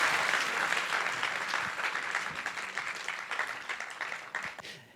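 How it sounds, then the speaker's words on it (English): An audience at a startup founders demo day claps in warm, sustained applause that gradually tapers off over five seconds, dense and close. "another round of applause, please, for Christian, Grace, and Pedro."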